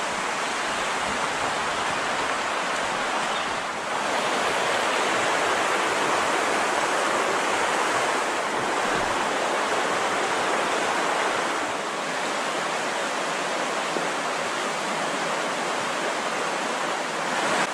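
River flowing past the Blue Hole in Peekamoose Valley, crystal-clear water over bluestone, giving a steady, broad rushing wash that stays constant and fairly close, with no voices.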